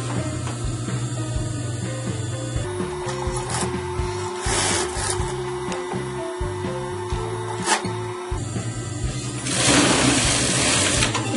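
Overlock and straight-stitch sewing machines, one running three threads, stitch a child's pajama bag, giving a steady fast mechanical whirr with brief pauses and shifts in speed, and a louder run toward the end.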